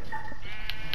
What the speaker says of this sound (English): Oh, we got sheep now.